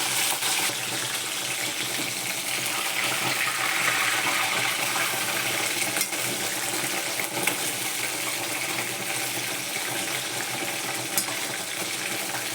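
A dense, loud rush of hissing from prawn fritters deep-frying in hot oil, steady for the whole stretch with faint crackles scattered through it.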